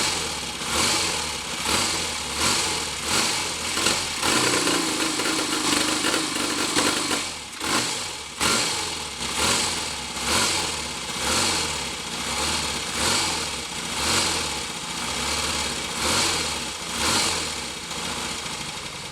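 A Royal Enfield Constellation motorcycle's engine catches from a cold start and runs steadily with a lumpy, pulsing idle and some throttle blips. The engine is loud and close throughout, with a brief dip in the middle, and no one talks.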